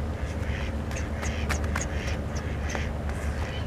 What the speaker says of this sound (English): And here are all the ducks.